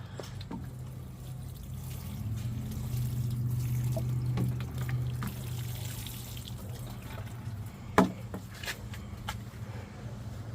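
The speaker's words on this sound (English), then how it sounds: "I don't put a whole lot of water in here because this, I'm sure, holds a lot of water." Water trickles and pours steadily into a large garden container outdoors, a soft continuous stream with a few faint drips and one brief knock near the end.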